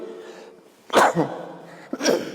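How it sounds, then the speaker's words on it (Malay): Two harsh coughs about a second apart, close and fairly loud, over a quiet background hum. "Mohon maaf batuk tak habis."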